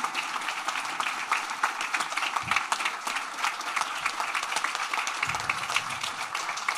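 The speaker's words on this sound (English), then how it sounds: "Can we get an enormous round of applause for our incredible speakers?" Sustained, dense applause from an audience at a talk on environmental justice and equity, a steady wash of many hands clapping with no voices standing out.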